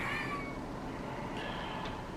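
Cat meowing faintly indoors, a short drawn-out cry near the start followed by a couple of softer brief calls over a steady background hiss.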